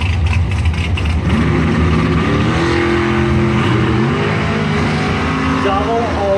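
Loud drag racing engines from a dragster and a door car at the strip, a steady roaring drone with rising rev steps as the cars accelerate away, continuous and close.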